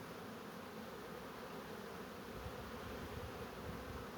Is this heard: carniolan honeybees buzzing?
yes